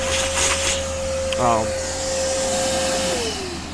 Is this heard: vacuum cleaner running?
yes